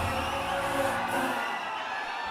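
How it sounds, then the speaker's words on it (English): At the RRR pre-release event in Kerala, a large crowd roars and cheers for actor Tovino Thomas, a loud continuous wash of shouting and whoops that eases slightly toward the end. "A round of applause for Tovino Thomas."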